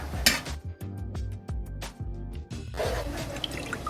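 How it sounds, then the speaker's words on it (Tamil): Metal spoon scraping and tapping in a pan as chicken curry gravy is stirred, giving a quick series of close clinks and drips, then a louder wash of sizzling or bubbling toward the end. "இடையில பார்த்து குழம்பை கிண்டி விட்டுக்கலாம்."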